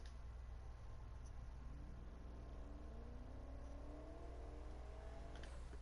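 Car engine in Need for Speed Heat, revving steadily with rising whine through several gear shifts, close and loud, with no one talking.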